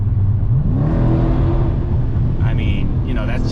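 A widebody Dodge Challenger Scat Pack with a naturally aspirated V8 roars loudly and close, its note rising and falling through a rev, with someone talking over the engine the whole way.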